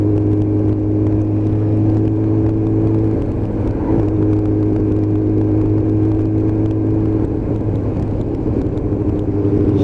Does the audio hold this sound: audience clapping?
no